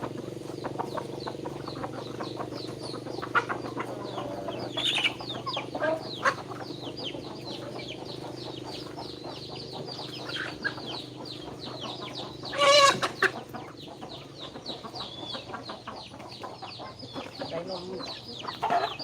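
Chickens cluck and a rooster calls in a steady rural farmyard bed, with scattered bird calls and a louder burst near the middle; voices are faint at times.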